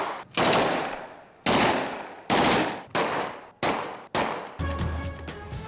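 Aerial gunfire echoes through a city neighbourhood in Gujjarpura, six loud, sharp bursts spaced about a second apart, each ringing out with a long reverberant tail, followed by distant noise.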